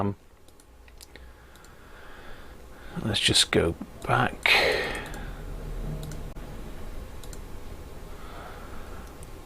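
Keys clicking on a Commodore Amiga A500 Plus keyboard with a broken key, a short burst of several sharp clicks in the middle, with a voice speaking briefly.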